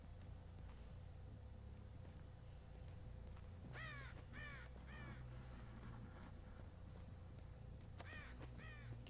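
Crows in the horror video game Dead by Daylight caw in a cluster of three or four harsh calls, then two more later, over a low droning game ambience; a voice mutters briefly.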